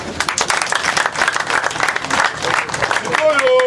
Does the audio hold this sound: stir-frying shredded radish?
no